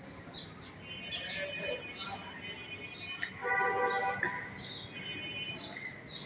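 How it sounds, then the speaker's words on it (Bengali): Small birds chirp and tweet outside a window, heard from indoors as repeated high, bright calls in short bursts over a soft room hum, moderately close and without talk. "কি সুন্দর পাখির ডাক শোনা যাচ্ছে"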